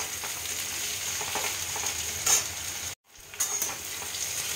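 Bitter gourd, potato and poppy seeds sizzle steadily as they fry in a pan, a continuous close crackle broken by a brief silent cut near the middle.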